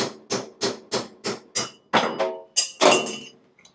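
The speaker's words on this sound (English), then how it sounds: "So to get this, I'm going to use a chisel and a hammer." Steel chisel struck by a hammer to break the trigger off a Catamount Fury rifle, about ten sharp metallic blows in a steady rhythm, loud and close with short ringing tails and no talk.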